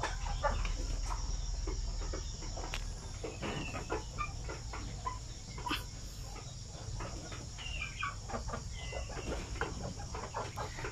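Basilan native chickens in a breeding pen, several birds clucking and crooning in short irregular bursts at close to moderate distance, with a faint steady insect chirr in the background.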